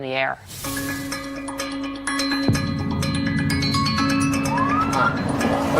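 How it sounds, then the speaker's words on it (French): Police sirens wail continuously at close range, their rising and falling tones layered over steady engine rumble and road noise. "il y a plein de voitures de police avec les sirènes allumées"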